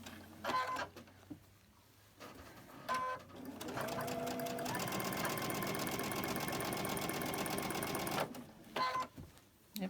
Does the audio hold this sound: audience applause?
no